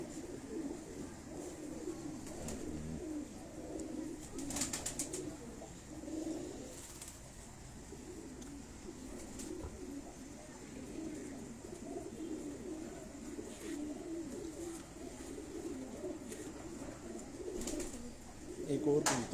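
Pigeons kept by a fancier at a shop in Abbottabad cooing softly through steady background noise, with low murmuring calls repeating throughout and occasional sharper sounds.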